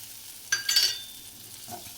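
Turtle berries (sundakkai) frying with turmeric and chili powder over low heat, a quiet sizzle broken by a couple of brief spatula scrapes and crackles.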